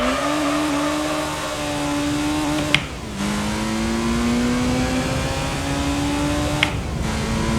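Race car engine in Gran Turismo 3 A-spec climbs steadily in pitch as it accelerates, with two sharp gear-shift breaks, loud and continuous with no voices.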